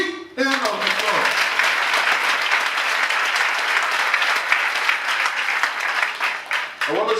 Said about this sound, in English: So please give her a big hand of applause.